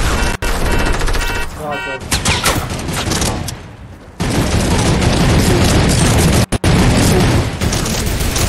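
Loud, dense gunfire and explosive booms fill a console squad shooter battle, with a brief lull mid-way before heavy blasts resume, voices faintly underneath.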